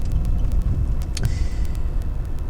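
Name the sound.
XJ8 car engine while driving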